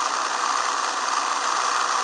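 Airplane engine in a plane simulator video game, a steady, even drone running unbroken throughout at a constant level, with no speech.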